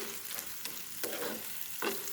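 Onion stirred and fried in a pan while making dried-fish bhorta, a steady soft sizzle broken by a few scraping stirs of the spatula, close and fairly quiet, with no talking.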